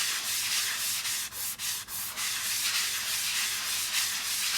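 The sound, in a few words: sanding edge of chalk couture piece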